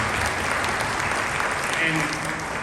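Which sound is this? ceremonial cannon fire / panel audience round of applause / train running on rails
panel audience round of applause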